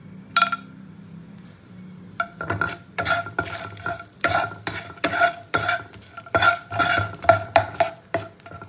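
Whole garam masala frying in hot butter in a pan for butter paneer, with a steady sizzle broken by repeated sharp scrapes and clacks of a utensil stirring against the pan, close and fairly loud.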